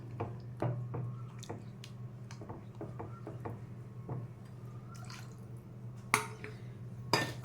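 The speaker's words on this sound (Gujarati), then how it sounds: "એનું જ પાણી રેડો છું એટલે આવી રીતે આપણે પાણી" Water is poured into a bowl of curd while cooking, heard as scattered soft drips and wet squishy splashes with a steady low hum underneath and a couple of sharper splashes near the end.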